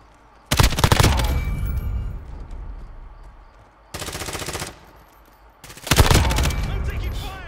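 Video game gunfire from Call of Duty Modern Warfare: three separate loud bursts of rapid automatic fire, close and sharp, with quieter gaps between them.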